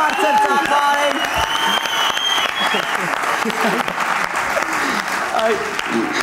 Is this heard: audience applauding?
yes